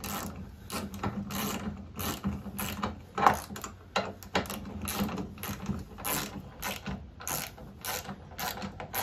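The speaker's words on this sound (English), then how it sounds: "I just tighten it to snug." A ratchet clicks repeatedly while tightening the pinion gear part on a Honda HRX217HYA lawn mower, close up, with quick bursts of metallic pawl ticks and short pauses between strokes.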